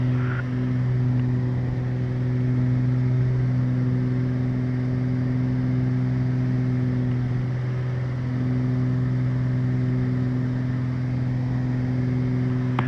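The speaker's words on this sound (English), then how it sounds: "Our prop sync on." Twin propeller engines of a Beechcraft G58 Baron in flight with prop sync on, a steady loud cabin drone with smooth, even tonal hum and a brief dip in the beat midway, no talk.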